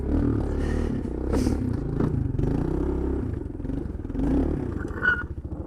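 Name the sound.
Suzuki Quadrunner 250 ATV engine running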